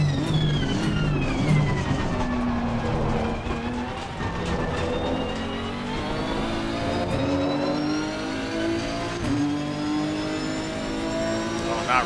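Race car engines in Assetto Corsa Competizione, a Nissan GT-R GT3 at the Zolder circuit, make a steady loud whine with rising and falling revs and shifting pitch, and other cars are heard nearby.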